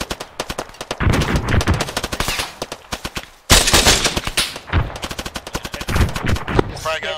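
Machine gun bursts ring out in ARMA 3, loud rapid automatic fire in several long strings with short pauses between them, heard without talk.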